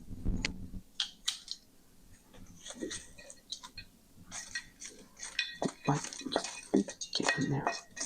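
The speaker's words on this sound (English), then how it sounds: "I should probably use tongs for this" Tongs handle swordfish in a pan, with repeated metallic clinks and scrapes in irregular bursts, close and moderately loud, while a person talks in between.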